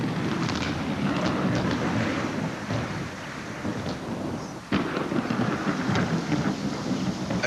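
Steady heavy rain pours down in a thunderstorm over African meerkat country, and deep rumbling thunder rolls beneath it with a sharp crack partway through, loud and close without any voices.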